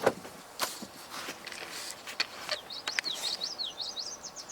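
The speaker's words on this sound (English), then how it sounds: "That was a swamp sparrow again, and we heard it sing." A swamp sparrow sings a quick series of high, sweet trilled notes, faint and somewhat distant against outdoor noise and a few rustles.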